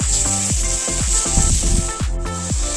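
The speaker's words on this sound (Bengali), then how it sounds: "একইভাবে বাকি চিংড়া মাছগুলো আমি ভেজে নেব ওই একই তেলে।" Prawns fry in hot oil in a pan, a continuous hiss of sizzling overlaid by recurring short tonal chirps that repeat every fraction of a second.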